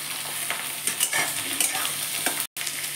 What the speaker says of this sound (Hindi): अब इसमें प्याज डाल देंगे, और हरी मिर्च भी डाल देंगे,